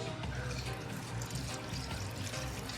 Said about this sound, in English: I'm gonna add my coconut milk.